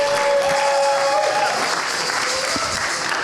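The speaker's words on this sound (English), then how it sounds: "Give yourselves a round of applause" Audience applause at a community birthday fundraiser tribute for Kamau Sadiki, a steady dense wash of many hands clapping throughout, with a faint tonal sound near the start and possible scattered voices underneath.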